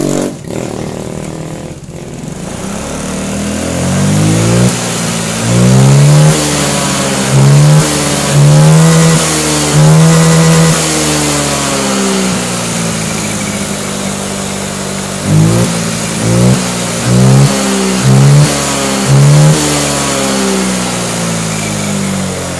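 A Honda Vario 125/150/160 fuel-injected scooter with a sputtering, misfiring fault starts up close by, then revs repeatedly in short throttle bursts between an uneven idle, loud and with no voices.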